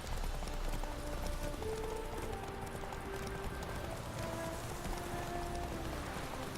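Horse galloping in The Witcher 3, a continuous quick clip-clop of hooves under a dense game soundscape with faint tonal music, no talking.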